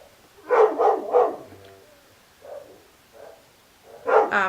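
A dog barks next door in the early afternoon, with three quick barks close together, a few softer, more distant-sounding yips after a pause, and then a louder burst of barking at the end.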